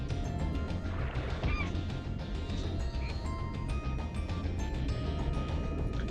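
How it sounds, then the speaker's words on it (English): Ducks quack and honk in the Spyro 2: Ripto's Rage video game, short calls scattered over a dense bed of game music and ambient effects, fairly faint in the mix. "Some ducks there, we can't interact with them yet"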